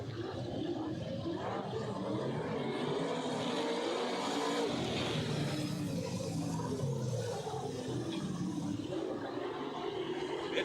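Super sedan race cars roar around the dirt oval at Lismore Speedway, engines droning and surging at a distance beneath a steady crowd wash, with faint commentary.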